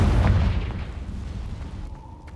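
A Confringo fire-blast spell explodes in Hogwarts Legacy: one loud close boom at the start that decays into a rumbling tail over two seconds.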